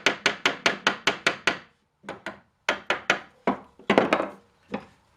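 Repeated knocking and hammering on an old oak barrel stand as it is taken apart, with a quick burst of sharp wooden blows followed by scattered single and clustered knocks, close and loud with short pauses between.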